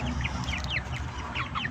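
Brahma chickens cluck in a series of short, close calls over a low rumbling background, several sharp clucks following one another in quick succession.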